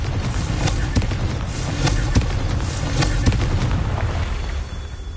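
Confringo fire spell blasts in Hogwarts Legacy on PS5: a dense run of loud booming, crackling explosions with sharp repeated impacts, close and continuous, over busy game background with little talking.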